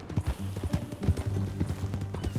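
Horse hooves clip-clop at a steady, even gait in the video game Red Dead Redemption 2, with a brisk close rhythm over a low background hum.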